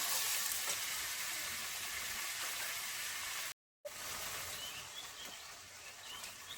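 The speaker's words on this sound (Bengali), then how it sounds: "হলুদ গুঁড়ো দিয়ে আমি ভালো করে ভেজে নেবো কুঁদরিটা" Ivy gourd frying in a pan with salt and turmeric, giving a steady bright sizzle that holds throughout, with a momentary break before continuing.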